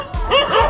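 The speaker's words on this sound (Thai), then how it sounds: "หมาเห่าเห่า" A dog at a Thai cub scout camp gives a quick double bark, short and loud, close by.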